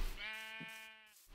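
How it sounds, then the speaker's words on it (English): A single sheep bleats in Minecraft, one clear wavering baa lasting about a second, close and fairly quiet, with nothing else around it. "Maybe I make some gray sheep"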